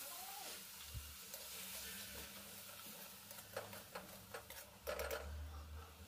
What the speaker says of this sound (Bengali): এরপর একটুখানি জল দিয়ে আমি মশলাটাকে কষে নেব।